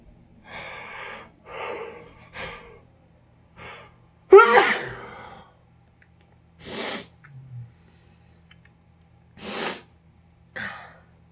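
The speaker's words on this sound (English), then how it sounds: "I feel another sneeze coming on." Several short bursts of sneezing and sharp breathy snorts, with one louder explosive sneeze in the middle, scattered at intervals and heard up close with no talk.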